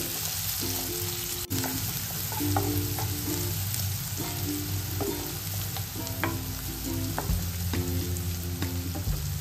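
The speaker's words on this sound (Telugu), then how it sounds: "గార్లిక్ కొంచెం ఫ్రై అయినాయి. ఇప్పుడు ఆనియన్స్ వేసుకుందాం. ఒక చిన్న ఆనియన్ కట్ చేసి వేసానండి." Garlic and chopped onions sizzle and crackle steadily in a hot pan for red sauce pasta, with occasional stirring and soft background music underneath.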